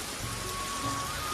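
Heavy, continuous rainfall pours down on a village in Arunachal Pradesh, a dense, even hiss of drops striking surfaces, with no talking.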